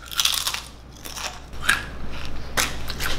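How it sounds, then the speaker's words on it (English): Trader Joe's dill pickle chips crunched in a few sharp, close bites, roughly three separate crackly bursts spaced about a second apart, with soft rustling between them and no talking. "Then I got my dill pickle chips. I already know these are fire, but we're gonna open it and have one anyway"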